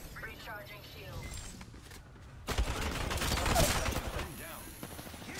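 Video-game gunfire crackles in dense bursts through a tense firefight, growing louder in the second half, with players talking over the shooting throughout.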